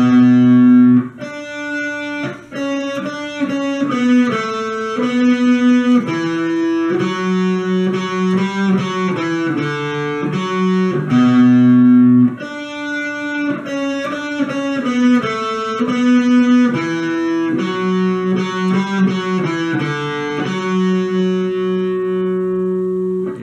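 Electric guitar plays the first part of the solo from a song, a slow melodic line of sustained single notes and bends with light distortion and effects, loud and close with no voice.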